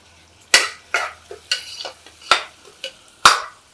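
Onions sautéing in a pan for a Chettinad-style chicken curry, heard as a run of sharp spatula knocks and scrapes against the pan at an uneven pace over a faint sizzle, close and fairly quiet.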